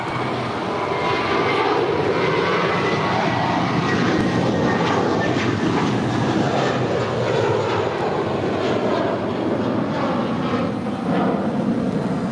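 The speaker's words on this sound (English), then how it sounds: "This departure is American 1423 departing to Boston on an A321" An American Airlines A321 jet departing LAX roars steadily at full power, a dense broadband rumble that stays loud and even throughout, heard from nearby outdoors.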